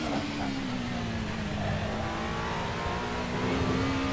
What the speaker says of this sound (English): the sound of this car revving to red line is ecstasy